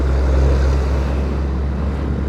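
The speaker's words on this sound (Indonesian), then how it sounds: "Ya gara-gara truk gede, angkutan gede ini, jadi rada lambat." Heavy trucks and cars crawl along in slow, congested road traffic on a route between Bojonegoro and Semarang, a steady low engine rumble close by with no voices.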